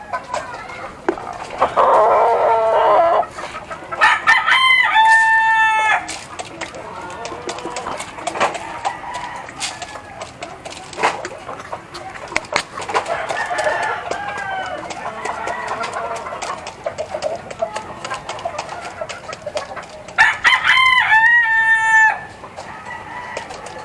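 Chickens and roosters in a small rooftop coop cluck steadily while roosters crow loudly several times, up close and without speech.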